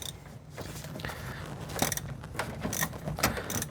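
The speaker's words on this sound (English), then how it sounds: "now I'm using a 3-inch extension, a wobble adapter, and a deep well socket with a wrench on the back side" A socket wrench with a 3-inch extension, wobble adapter and deep well socket works on a Chevy Express or GMC Savana brake booster, giving close ratcheting clicks and metallic creaks in short uneven bursts, no talk.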